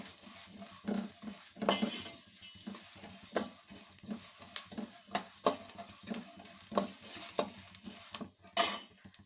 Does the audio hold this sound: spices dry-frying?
yes